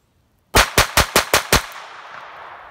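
An Astra Cub pistol chambered in .22 Short fires six rapid, evenly spaced sharp shots, loud and close, followed by a fading echo and no voices.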